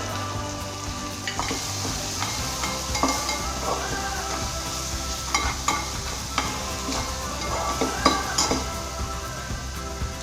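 Besan paste sautéing in a pan, a loud close sizzle with repeated scraping and clinking of a spoon stirring against the metal, steady throughout with no voices.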